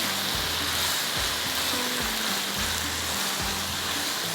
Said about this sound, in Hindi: थोड़ा इसके साथ फ्राई कर रही हूँ ताकि इसके अंदर फ्लेवर है